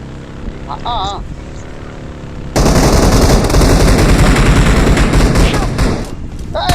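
Automatic gunfire in the PUBG Mobile battle royale game, a loud sustained burst of rapid shots that starts abruptly partway through, after a quieter stretch with brief game sounds.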